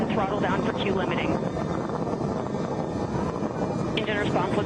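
A Blue Origin rocket engine roars continuously during launch, a loud, dense rumble with radio-style voices talking over it.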